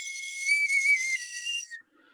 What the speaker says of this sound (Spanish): Es este tipo de flautas pequeñitas hechas con... No sé si esto es hueso de buitre